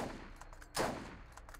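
A single quick gunshot from a gun in Borderlands, faint and fairly close, with a few soft ticking game sounds before and after.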